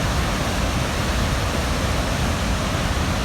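Niagara Falls roaring in broad daylight, a steady, dense, loud rush of falling water that stays constant and unbroken throughout with no other sounds on top.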